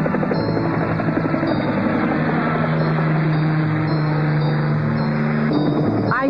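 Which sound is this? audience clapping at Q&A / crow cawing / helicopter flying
helicopter flying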